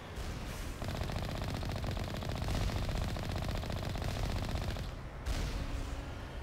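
Long bursts of rapid automatic turret fire in Mass Effect 1's Bring Down the Sky, loud and continuous with a short pause near the end before the shooting resumes.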